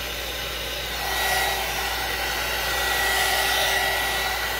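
A hair dryer blows steadily on wet paint on a craft piece, a loud, close, continuous whooshing whir that swells slightly as it moves, with no talk.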